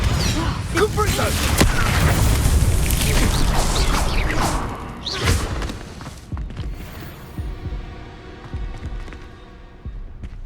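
Incendio fire spell cast in Hogwarts Legacy: loud whooshing bursts and booms packed together over the first five seconds, then sparser thuds and crackles, with a voice talking over it.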